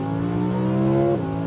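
An Audi R8 V10 plus engine pulls hard with a loud, steady, tonal drone from inside the car, then briefly dips in pitch as an automatic downshift kicks in near the end.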